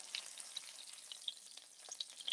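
Catfish fries in hot oil in a pan, giving a steady close crackling sizzle with sharp spattering pops scattered throughout and no talking.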